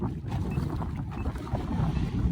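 A Haswing Cayman 55 electric trolling motor pushing a small fishing boat, a low steady whir buried in rushing water and wind buffeting the microphone, with no talking.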